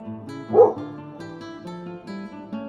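A dog lets out a single short, loud bark about half a second in, standing out briefly over steady background music.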